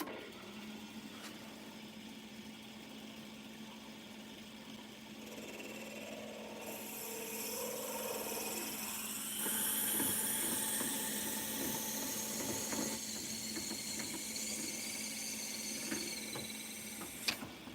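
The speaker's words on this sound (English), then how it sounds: "So now we've got a 1/2 inch bit in here, and we're going to widen this up" A 1/2 inch drill bit is widening an existing hole in a workpiece while a motor hums steadily. The rough cutting and grinding noise stays quiet and continuous, builds slightly midway, and has no talking over it.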